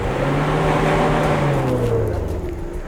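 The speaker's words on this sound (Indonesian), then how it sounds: "Semakin lama, semakin banyak truk yang melintas." A truck passes along a potholed road through a privately owned palm oil plantation, its engine a steady loud drone with a slowly falling pitch as it goes by, with no talk.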